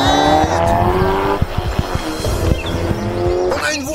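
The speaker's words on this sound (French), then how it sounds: "Oh, il y a une voiture. Ils partent." A car pulls away with tires squealing, a loud close engine rev and screech that fades as it drives off, with brief rumbling thumps mixed in.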